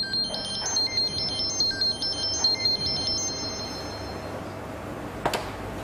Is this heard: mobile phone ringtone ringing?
yes